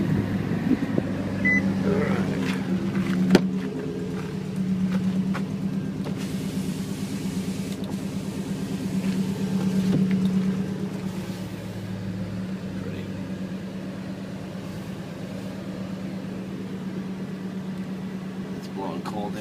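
A 2004 Nissan Titan 4x4 LE lifted pickup's engine catches with a brief jolt, then settles into a steady, low, rumbling idle that runs throughout, with a faint murmur of voices in the background.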